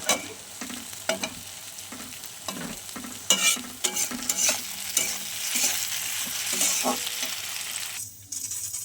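Fish fries in a pan with a continuous crackling sizzle, broken by clinks and scrapes of stirring or turning, close and moderately quiet, with no voices.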